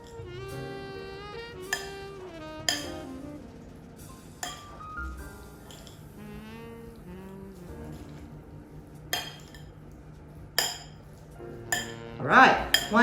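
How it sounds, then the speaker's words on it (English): Tofu bolognese being gently mixed in a bowl, with scattered clinks of a utensil against the dish, soft scraping and a few sharper knocks near the end, close and moderately quiet. "Mix it gently."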